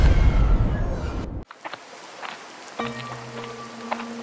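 Heavy downpour on an evening, a dense hiss of rain for over a second that cuts out abruptly, followed by quieter sparse drips and faint tonal sounds.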